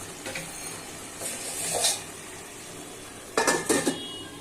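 A lid set over a pot of tel tangra fish curry, with a light metallic clatter early on, a scraping clink in the middle and a louder rattling clank near the end, over a faint background hiss.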